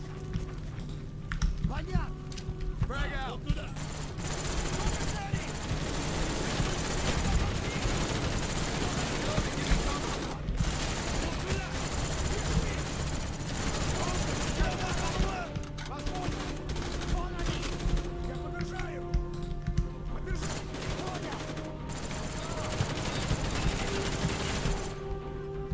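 Sustained gunfire in Call of Duty Black Ops, rapid automatic bursts and scattered shots rattling continuously, with voices talking over the shooting throughout.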